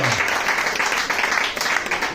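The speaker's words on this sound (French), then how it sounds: "je vais vous demander s'il vous plaît de l'applaudir chaleureusement" Applause from a conference audience in Martinique, a dense steady patter of clapping holding at an even level throughout, with a brief voice heard at the very start.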